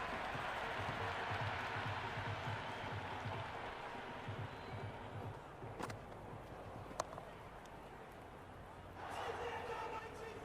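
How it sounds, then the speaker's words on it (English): Stadium crowd roaring and cheering in a Cricket 26 T20 match between India and New Zealand, a steady loud wash of noise with a few sharp bat-like knocks and a late swell of louder cheering, commentary voices running underneath. "The crowd is electric right now."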